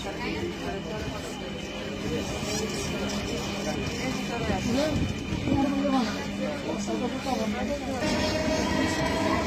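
A Dhaka metro train bound for Uttara North rumbles steadily along the track, a constant mechanical roar with faint rattles, while bilingual station announcements play over the noise.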